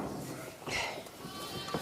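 A sheep on a farm during lambing gives a single faint, short bleat in a quiet barn, with low background rustle and no clear talk.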